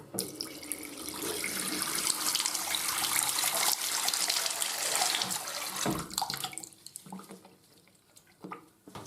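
Steady running tap water splashing over Remington F3 foil shaver parts, loud and close, then tapering into softer trickles and a few drips near the end.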